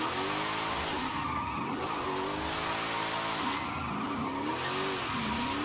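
Wagon car in the Forza Horizon 5 racing game drifting with loud, continuous tire squeal and engine drone, the screech rising and falling in pitch across several seconds without any talk.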